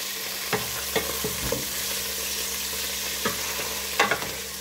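Chicken thighs frying in hot oil in a pan, a steady close hiss of sizzling with occasional sharper pops and spatters, no voices.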